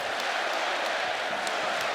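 A basketball arena crowd in the Oakland Zoo student section at a Pittsburgh versus West Virginia college game, making a steady, distant roar of cheering and murmur with faint talk.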